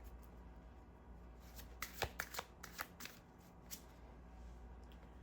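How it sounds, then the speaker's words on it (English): A deck of cards shuffled for a pick-a-card reading, a quick run of crisp riffling flutters and taps up close in a quiet room. "I'm also having a hard time shuffling these cards to get an energy from you"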